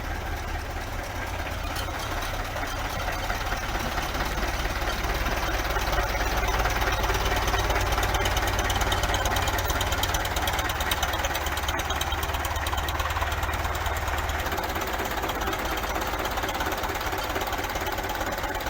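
A Belarus 520 tractor with a 64 hp diesel engine runs steadily near the listener, a loud, even knocking rumble with constant rapid vibration throughout, no talk over it.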